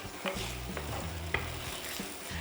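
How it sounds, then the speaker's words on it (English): Shrimp sizzle steadily in a hot stir-fry pan for spicy Kung Pao shrimp, with a constant frying hiss broken by a few sharp clinks and scrapes of stirring. "You can hear the sizzle."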